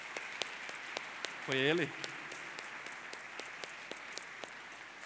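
A church congregation claps along in a steady, evenly spaced rhythm while a voice briefly rings out over it, the clapping continuing throughout.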